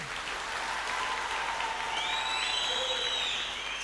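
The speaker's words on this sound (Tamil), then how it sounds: "இந்த கைத்தட்டலாம் பத்தாது." An audience at a success ceremony for Group II(A) and lab assistant exam candidates applauds in a steady, dense wash of clapping, moderately loud throughout with no voices over it.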